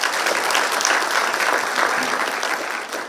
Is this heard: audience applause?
yes